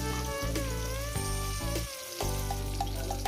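Water from a spice bowl hitting a hot pan of spices for a mustard-poppy tilapia and eggplant curry, bursting into a sizzle under a steady tonal hum, with a couple of brief clinks.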